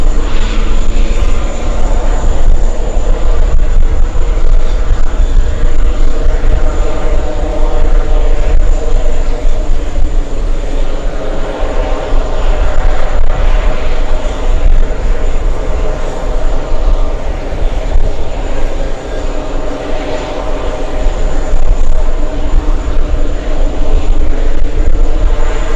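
Jet engine of a Lufthansa airplane at JFK airport, a loud, steady roar with a constant whine that holds without a break for the whole stretch.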